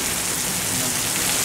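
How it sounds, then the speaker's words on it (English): Steady rain falls on a humid day, a dense, even hiss of drops that fills the whole short stretch without pause or change in loudness. "Hey, so this rain ain't nothing."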